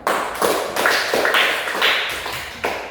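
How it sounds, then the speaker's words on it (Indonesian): Classroom applause for a student group, a short burst of many hands clapping in an indoor room, steady and fairly loud with a few uneven peaks, no voices over it. "Tepuk tangan untuk kelompok"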